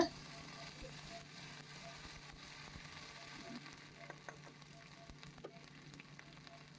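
Ginger-garlic paste frying in oil over bay leaf, dried chilli and cumin seed tempering gives a faint, continuous sizzle with small crackles, heard close and alone.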